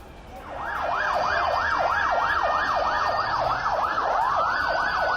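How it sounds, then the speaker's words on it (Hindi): Wailing ambulance siren outside a crowded hospital in Lebanon after pager blasts, a steady rising-and-falling yelp repeating rapidly and loudly, close by and continuous with no talk over it. "एम्बुलेंस की लाइन लगी हुई है, घायलों को पहुंचाया जा रहा है"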